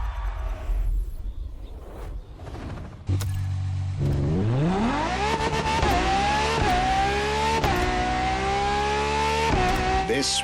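A Ferrari LaFerrari supercar engine in the racing game The Crew Motorfest, revving up from idle into a loud, rising acceleration with gear-change dips, steady and close.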